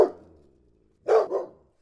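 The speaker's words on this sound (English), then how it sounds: "she was barking to get a treat" A dog gives a short bark at the start, then after a pause two loud, close barks in quick succession, begging for a treat indoors.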